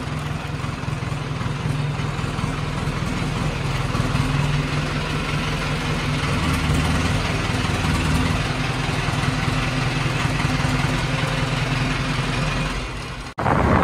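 A Mahindra Arjun 555 tractor fitted with small tyres runs at a steady idle, its low engine drone loud and unbroken for about thirteen seconds before cutting off sharply near the end.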